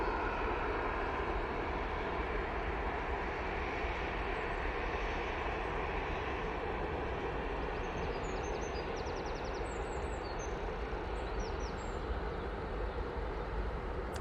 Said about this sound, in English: Next in, we have the Hainan A380 coming in from Beijing